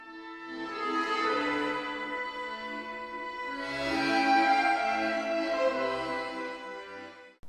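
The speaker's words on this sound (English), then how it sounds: "An accordion sounds like this." A solo accordion holds rich, reedy chords that swell and ease back like a breathing bellows, steady and moderately soft throughout.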